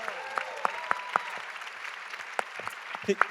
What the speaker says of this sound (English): A round of applause for the wonderful vocal coach on this film.